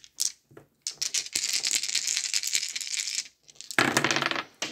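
Dice rattle and clatter as they are rolled for a Strat-O-Matic tabletop baseball replay, several quick bursts of hard tumbling clicks close by with short pauses between rolls.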